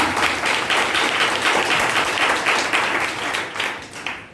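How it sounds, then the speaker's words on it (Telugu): A church congregation claps loudly in a steady, dense burst of applause that holds for several seconds at full strength, then thins slightly near the end, with no voices over it. "గట్టిగా చప్పట్లు ఒకసారి గట్టిగా"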